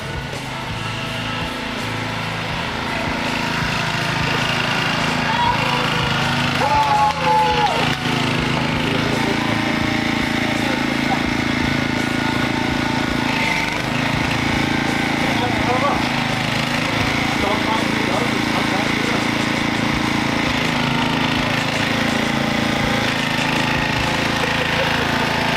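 A lawn mower engine runs steadily and loudly the whole time, a constant droning motor with people talking over it.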